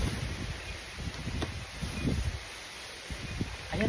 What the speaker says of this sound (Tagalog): Ang hangin lang ngayon dito